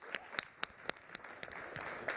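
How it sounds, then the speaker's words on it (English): An audience at a panel discussion applauds, with a few distinct, fairly distant claps repeating in a loose rhythm over soft room noise. "I think this morning deserves a special round of applause"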